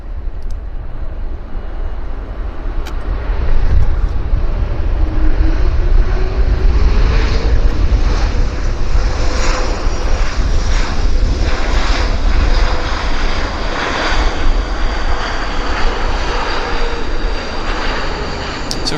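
An Airbus A220 (Bombardier C Series) airliner at Vancouver Airport roars past, a loud broad engine rumble building and holding for several seconds, with a sweeping whine shifting in pitch as it goes by.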